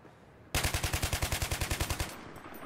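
A bipod-mounted machine gun in Battlefield 3 fires one steady automatic burst of about sixteen evenly spaced, loud, close shots lasting roughly a second and a half, then stops and leaves faint background noise.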